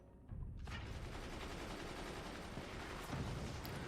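Sustained machine gun fire in the Moonshot multiplayer shooter, a dense, continuous burst starting abruptly after a brief quiet moment and staying loud and steady, with no talking.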